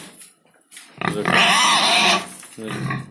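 Pigs on a Ukrainian smallholding squeal loudly and harshly for over a second, the noisy cry rising and falling, then a lower grunting squeal follows; no talk over it.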